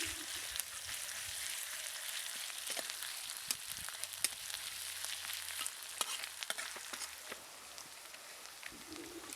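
Chopped ginger, onion and green chilli sizzle steadily in a hot pan, a continuous crackling fry with scattered sharp pops and occasional stirring scrapes, close and moderately loud with no talking.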